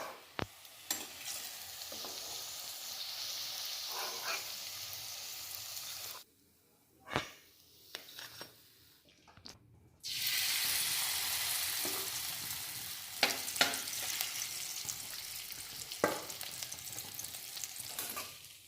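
Chinese-style cabbage pakoras fry in hot oil with a steady, close hiss and crackle. The sizzle drops away briefly partway through, then returns loud and continuous with occasional stirring knocks.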